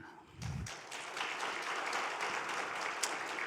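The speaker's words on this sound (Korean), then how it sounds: "제가 인사하실 때 우리 격려의 박수 함께 하겠습니다." Church congregation applause of encouragement during a Sunday service farewell, a dense, steady round of clapping that swells in after a brief low thump and continues at moderate loudness.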